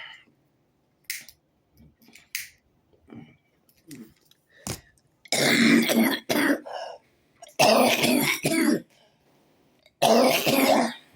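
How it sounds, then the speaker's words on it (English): A cigarette smoker outdoors on Front Street coughs in several harsh, loud bursts after quieter throat noises and mouth sounds, with pauses between the fits. "You hear I'm coughing?"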